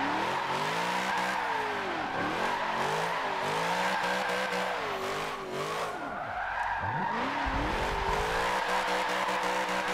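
A car drifting in Forza Motorsport 7 with a new drift suspension: its engine revs rise and fall repeatedly under sustained tire squeal, loud and close, with a brief dip before the revving picks up again.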